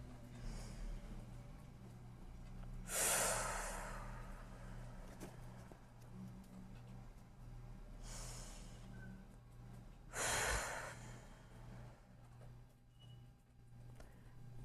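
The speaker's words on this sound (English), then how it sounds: "take a breath." Two deep breaths drawn in slowly, about seven seconds apart, each a soft airy rush standing out over a low steady background hum, with no talking.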